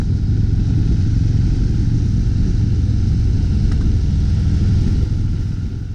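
A 2018 Harley-Davidson Fat Boy cruising on a winding country road, its engine giving a steady, low rumble mixed with road and wind roar, fading slightly at the end.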